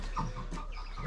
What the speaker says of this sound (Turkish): Bizim horozlar burada arkadaşlar.